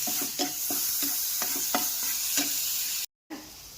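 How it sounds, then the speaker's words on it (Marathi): Potato vada filling with turmeric and salt being sautéed in a pan: a constant sizzle with several quick spoon-scraping strokes across the pan, close and clear, briefly cut to silence near the end. "आणि हे आपण थोडंसं परतून घेऊया."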